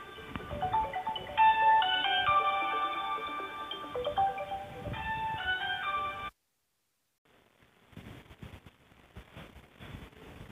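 A phone ringtone plays a bright, looping melody for about six seconds during a maths lesson, then cuts off abruptly, followed by a short silence and faint background noise.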